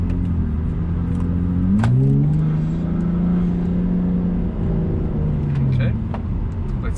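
A Volvo S60 T6 with an aftermarket intake manifold accelerates hard, its engine note climbing steadily, dipping at a gear shift, then rising again; loud, close inside the cabin, with a person talking over it.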